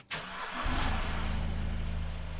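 A car engine cranks and catches, then settles into a steady idle that runs on alone for over a second.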